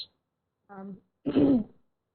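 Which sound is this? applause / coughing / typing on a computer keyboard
coughing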